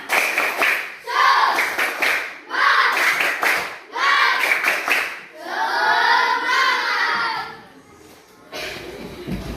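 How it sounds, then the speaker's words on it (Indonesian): A classroom of children claps an Indonesian patterned cheer clap in rhythmic bursts, pausing between rounds, with children's voices mixed in under the claps. "coba beri dulu tepuk semangat"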